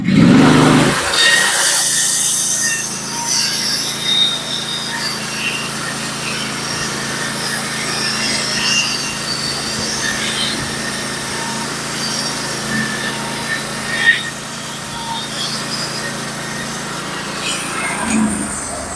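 A Norwood HD36v2 sawmill with new roller guides cuts a board from a cedar log. The blade gives a loud, steady high whine that holds throughout, with a brief knock near the middle.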